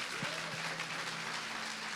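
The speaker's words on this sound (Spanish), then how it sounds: "Dele un aplauso al Señor" A church congregation claps during a Sunday sermon, a soft, even wash of many hands heard from a distance, with a low voice or tone briefly sounding underneath.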